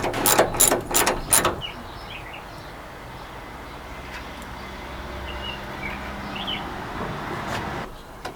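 Ratchet clicks from a 1/2-inch socket working on a Peterbilt truck headlight, a quick burst of loud ratcheting in the first second and a half, followed by quiet shop ambience.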